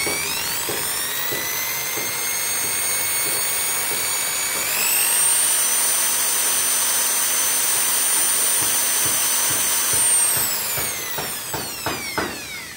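A power drill whines steadily at high pitch while drilling wood, its motor rising in tone midway, then breaking into short bursts as it slows near the end.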